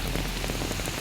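Steady, dense rainfall patters on surfaces in Uttara Kannada's hilly Malnad and coastal belt, a continuous close hiss with no voices.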